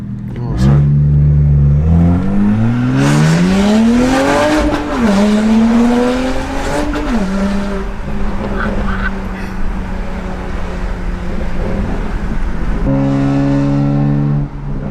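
Straight-piped BMW 135i coupe bashing along a B road, its loud exhaust droning and climbing in pitch through hard acceleration, then settling into a steady cruise before revving up again, heard from inside the car.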